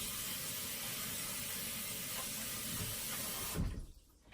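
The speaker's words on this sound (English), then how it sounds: "Rinse them off a little bit." Lemons rinsed under a running kitchen tap, a steady broadband rush of water that runs evenly for several seconds and then cuts off abruptly near the end, leaving near silence.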